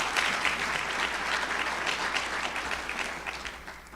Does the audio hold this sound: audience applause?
yes